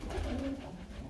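Pigeons coo softly inside a pigeon loft, low murmuring calls overlapping in a quiet, close setting with no talk.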